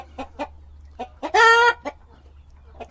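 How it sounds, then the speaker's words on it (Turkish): Chickens and a red rooster clucking in a garden: a few short clucks, then a louder drawn-out call, with more scattered clucks after, close by. "İki tane zümrüt Arap tavuğumuz var. iki tane sarı tavuğumuz var. Kırmızı bir horozumuz var."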